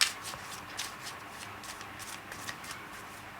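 Lenormand cards being shuffled by hand in a steady run of soft papery riffles and slides, close and fairly quiet, with no voices.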